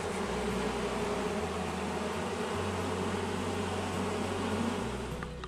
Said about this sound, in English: Bees are looking good.